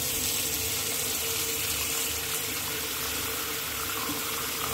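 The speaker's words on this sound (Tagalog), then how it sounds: "punuin mo muna ng tubig yung lalagyan" Water rushes steadily from a tap into a container in a bathroom, a constant close splashing flow with no speech.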